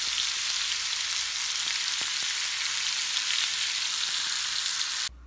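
Rib eye steak sizzling in a pan with rosemary, a continuous loud hiss and crackle with a few soft knocks, cutting off abruptly at the end.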